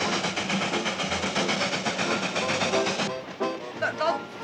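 An old train running fast on a small country railroad near Hooterville, a steady dense rumble and clatter carrying loudly throughout, with people talking over it.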